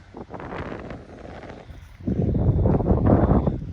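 Wind gusts buffet the microphone on a chilly, foggy beach at sunset, a low rumbling roar that strengthens in the second half.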